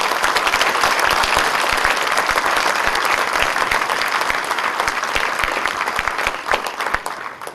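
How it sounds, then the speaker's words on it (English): A big audience breaks into loud, sustained applause after a moving speech about the 2G spectrum scam, dense clapping filling the room steadily before thinning slightly near the end. "I would request everybody to give him another rousing applause"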